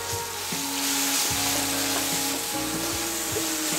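Ginger garlic paste fries in a pan for butter chicken with a loud, continuous sizzle, while a spatula stirs and taps now and then over a faint background tune.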